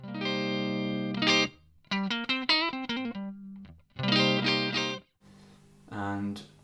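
An electric guitar plays clean with no overdrive pedal engaged: a strummed chord, a quick run of single picked notes, then more ringing chords, separated by short pauses.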